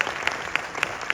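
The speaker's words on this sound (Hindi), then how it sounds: "जोरदार तालियां बजाएं" Brief burst of clapping in a university hall at a cultural night and poetry gathering, dense and even with a few sharper individual claps standing out at regular intervals.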